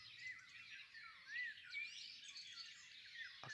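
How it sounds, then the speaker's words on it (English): Faint birdsong at dawn, with whistled notes and chirps over a soft chorus of other birds, heard distantly and quietly outdoors, attributed to a golden oriole. "So that's the golden oriole."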